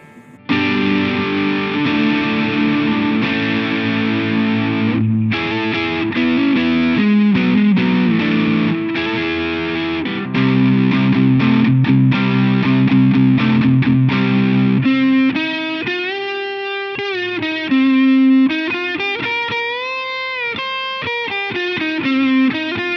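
Distorted electric guitar with humbucker pickups through an MXR Custom Badass Modified O.D. overdrive pedal, first playing crunchy chords, then a gliding, bending lead line with sustained notes.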